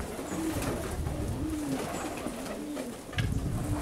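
Racing pigeons coo outdoors in Perama, Greece, with several low, rolling coos repeating at a relaxed rhythm over outdoor background noise.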